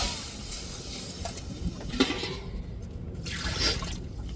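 Tamarind and tomato water, mixed with coriander leaves, is poured into a hot rasam tempering, giving a continuous close splashing pour that swells briefly near the end.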